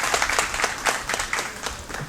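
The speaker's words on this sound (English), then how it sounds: "Let's give him a nice round of applause." A round of applause from a small audience at a jazz and poetry event, close, lively scattered clapping with distinct individual hand claps, steady and brief.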